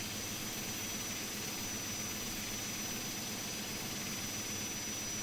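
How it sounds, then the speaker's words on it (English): Engine number 1 of an ATR72-600 turboprop in a flight simulator game spools up during start, a steady broadband whine and rumble holding at an even, moderate level with no talk. "So we're going to start engine number 1 now."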